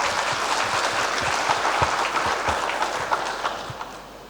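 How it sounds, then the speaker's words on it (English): An audience at an AI development and security plenary session applauds Geoffrey Hinton, steady, dense clapping filling the hall and slowly fading toward the end. "give a round of applause for Geoffrey Hinton"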